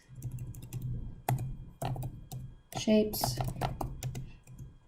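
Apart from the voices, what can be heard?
typing on a computer keyboard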